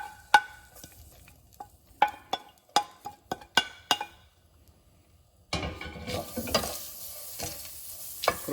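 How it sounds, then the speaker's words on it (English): Garlic, ginger and poppy seeds in a pan on a low flame: a series of sharp utensil clinks and taps at first, then a steady soft frying sizzle takes over, close and with no speech. "fry this for another 5 minutes. Make sure it is low flame and it's not blackening."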